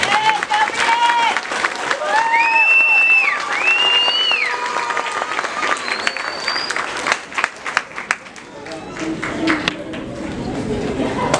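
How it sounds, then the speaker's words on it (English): An audience bursts into clapping and cheering, with whoops and whistles over steady applause that thins out toward the end, with some voices mixed in. "Did we get one big round of applause?"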